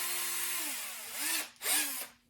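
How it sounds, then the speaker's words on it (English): Power drill spinning a pilot bit during a 1968 VW Bug Volksrod custom electrical channel build: a brief whining motor that spins down, then revs up twice more with rising and falling pitch, close and fairly quiet. "pilot drill bit"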